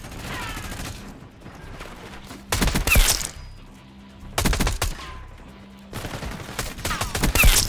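Assault rifle fire from Black Ops 6 comes in three loud, close bursts of rapid shots, with quieter game ambience and faint distant pops between them.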